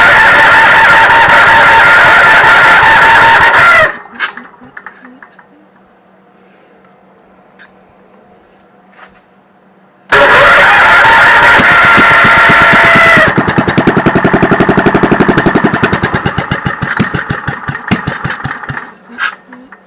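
A Cushman golf cart engine, running off a big battery charger because its battery pack is dead, cranks hard and loud for several seconds, falls quiet, then cranks again and catches into a rough, sputtering idle.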